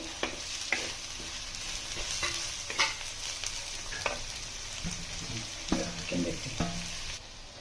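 Onions fry in a pan for a curry, a soft, steady sizzle broken by repeated sharp scrapes and clacks of a stirring spoon, close but fairly quiet.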